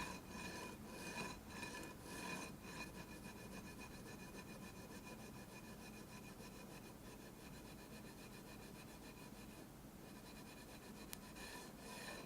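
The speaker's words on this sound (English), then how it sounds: "And then very carefully sanding them flat." Turquoise-filled side dot inlays sanded flat on a guitar neck during a custom guitar build: steady rhythmic abrasive rubbing strokes, close and fairly quiet, with no voices.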